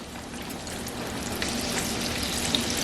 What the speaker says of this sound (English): you just want to fry them for a couple of minutes on each side